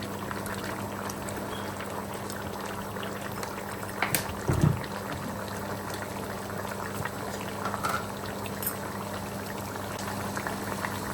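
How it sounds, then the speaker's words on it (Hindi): Vegetable oil goes into a mutton karahi already bubbling in the pan, a steady simmering bubble throughout with a brief louder splash and sizzle about midway as the oil lands, close and moderately quiet. "अब इसमें थोड़ा सा वेजिटेबल ऑयल ऐड कर देंगे, 2 से 3 टेबल स्पून।"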